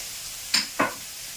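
A spoon scrapes twice through seasoning sautéing in a pan for tapioca adai dosa, two quick close stirring sounds over a soft, steady sizzle.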